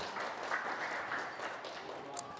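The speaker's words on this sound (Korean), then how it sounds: "박수로 격려합니다." Soft, distant applause from a church congregation during a service, a faint steady patter of clapping with occasional voices beneath it.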